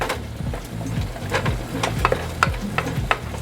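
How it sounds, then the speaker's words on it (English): Taco meat frying in a pan while being stirred continuously, a close, steady sizzle punctuated by rhythmic scraping strokes of the utensil, with a low hum underneath. "Just keeping the meat moist. Just keep stirring it up."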